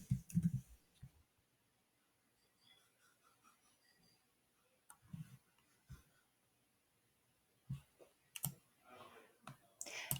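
Quiet computer mouse clicks at a desk, a few sharp single and double clicks spaced irregularly, close and faint with soft handling noise between them.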